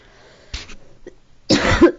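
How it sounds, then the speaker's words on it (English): Two separate coughs, a short one and then a louder, longer one a second later, close to the microphone in an otherwise quiet room. "I'm so sorry to keep coughing."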